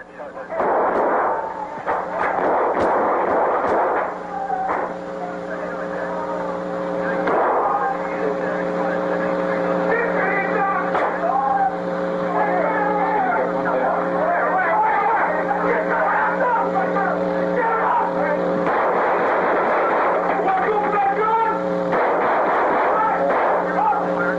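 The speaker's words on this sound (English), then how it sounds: "A gunfight erupts with the 4 gang members." Gunfire rings out during a police SWAT shootout with four gang members inside a store, with bursts of shots and loud reports over a droning background, mixed with faint voices.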